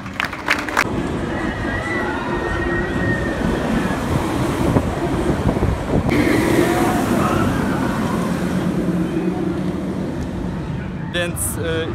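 A wooden roller coaster at Energylandia thunders along its track, a loud continuous rumble and rattle of cars on rails, with voices and crowd noise mixed in.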